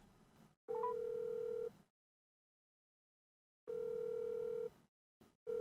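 A telephone ringback tone sounds while a call is placed, two clear electronic ring bursts about a second long separated by silence, with the start of a third at the end, fairly quiet.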